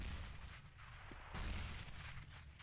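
Gunfire in Counter-Strike during a professional match on the Train map: dense, continuous game audio full of overlapping shots and bursts, loud and busy throughout with a stronger burst in the middle.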